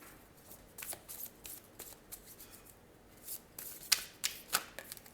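Tarot cards being shuffled by hand, quiet riffles and flicks that grow into a few sharper snaps near the end, close and without talk.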